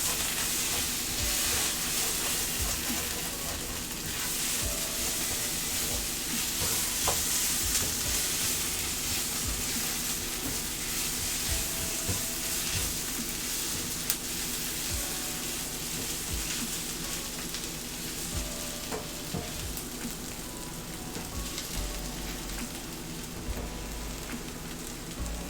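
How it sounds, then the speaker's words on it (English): Onions and paprika sizzle steadily in a frying pan, a dense, even hiss like rain on a surface that holds for the whole stretch, with faint stirring scrapes underneath and no voices. "Give all that a stir up."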